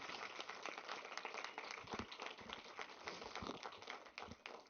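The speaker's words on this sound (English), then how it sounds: "students, please give a round of applause to even the families for even being here today" An audience at a school district board meeting applauds families in a large hall, a dense, continuous patter of many hands heard faint and distant, without voices on top.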